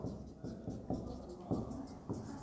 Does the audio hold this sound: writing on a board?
yes